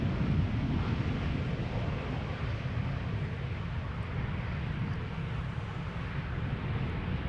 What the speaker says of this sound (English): Embraer 190 arriving from London City.